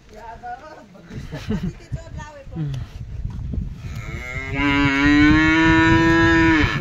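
Cows and oxen on a farm: a few seconds of people talking give way to a single long, loud moo close by that carries on to the end.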